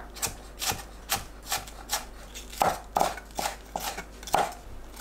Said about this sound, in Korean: 파를 5에서 7cm 길이로 채 썰어줍니다.